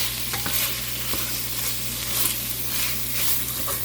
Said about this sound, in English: And it's time to add the tomatoes.